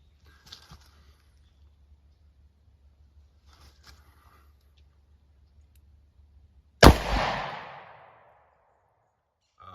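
A single sharp gunshot from a .38 Special loaded with 100 grain Underwood maximum expansion rounds, fired about 5 feet from a chronograph; one loud crack with a decaying tail, the rest of the stretch quiet.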